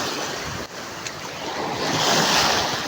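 Sea waves wash and surge steadily against the shore, with gusts of wind buffeting the microphone and the roar of surf building louder toward the end.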